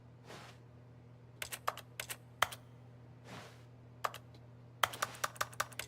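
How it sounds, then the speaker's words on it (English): Keyboard typing sounds from the video game The Stanley Parable, crisp clustered keystrokes in short irregular bursts, fairly close and clear over a low steady hum, with two soft whooshes between bursts and no talk. "Why does everything make a keyboard sound?"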